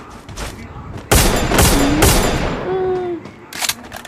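Gunfire in the Free Fire video game: a sudden burst of rapid shots, loud and close, followed by a few more scattered bangs, with brief tonal game effects between them.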